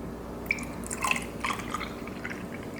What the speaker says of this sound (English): you're going to pour it into your popsicle molds, your cups, your ice cube trays